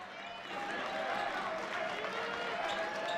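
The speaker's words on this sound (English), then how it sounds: "Blackford fans cheering the defensive start to this half" A Blackford basketball crowd cheers and roars steadily in a school gym, the noise swelling after a brief quieter moment, with a commentator talking over it.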